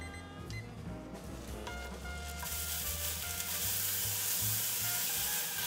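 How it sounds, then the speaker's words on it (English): Steak sizzling in a pan as its fat renders down into its own oil, a steady loud crackle that swells and brightens partway through, with a low hum under it and no voices. "I'm going to use that fat to render down where it's going to be cooking in its own oil."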